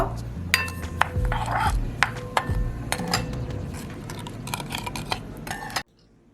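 Salad dressing with pepper and a tablespoon of sugar being mixed by hand, giving a run of sharp clinks and scrapes of utensil against a bowl over soft background rustle, stopping abruptly near the end.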